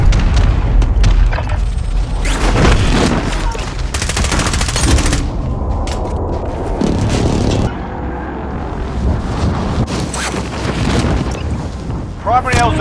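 Incoming gunfire in Call of Duty: Warzone, dense bursts and booming impacts crackling across a loud battlefield, with voices talking through the clamor.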